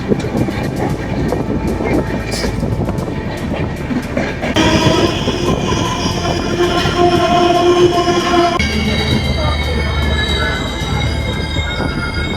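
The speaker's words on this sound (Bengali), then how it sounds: "আমাদের ট্রেন এবার ঢুকছে মেছেদা।" The Sri Jagannath Express rolls into Mecheda station with loud, continuous rail rumble and rattling carriages. Sustained high metallic wheel squeals ring out through the middle and later stretches, close and prominent.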